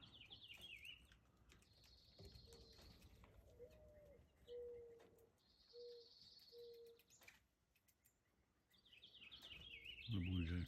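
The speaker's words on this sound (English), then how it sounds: "There's the doves in the tree there" Mourning doves give soft, low, drawn-out coos in a tree near backyard feeders while other birds chirp at higher pitch and insects trill faintly, all at a quiet distance.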